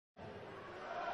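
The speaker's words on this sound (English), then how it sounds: "A ripple of applause and a few cheers there" German darts crowd at the 2019 International Darts Open swelling into a brief ripple of applause and scattered cheers, a broad, rising wash of crowd noise.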